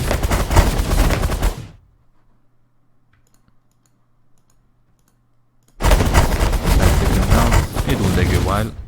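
A minigun firing at freighters in The Last Federation roars in dense, continuous bursts, loud and close. Near silence falls between them, then a second long barrage begins.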